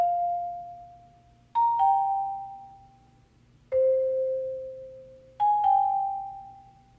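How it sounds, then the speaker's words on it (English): Dong Bell one-shot from a Cactus kit processed with a drone delay preset, four clear bell strikes each ringing out in long sustained decaying tones, spaced irregularly and fairly loud against a faint low hum. "first I used the Dong Bell from Xynothing's Cactus One Shot Kit"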